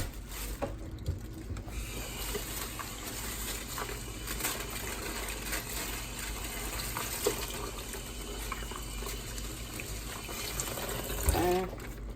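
Tap water runs steadily into a kitchen sink as pork ribs are rinsed under it, a continuous close hiss and splash lasting throughout, with a brief louder splash near the end.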